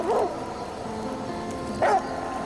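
A dog companion in The Flame in the Flood video game gives two short yipping barks about two seconds apart, fairly loud over a steady game backdrop.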